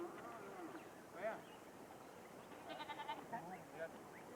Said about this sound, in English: By bringing his goat.